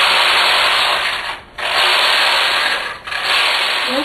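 A knitting machine carriage is pushed back and forth across the needle bed knitting slipper lining rows, a loud, close, broad rasping swish in long passes with brief dips where it reverses direction, no talking.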